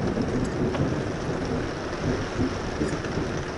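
Steady rain falls hard and constantly at a camping resort in Spain, with a low rumble under it that fits distant thunder, close and loud with no voices.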